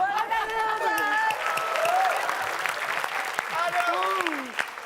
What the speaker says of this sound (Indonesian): Boleh kasih tepuk.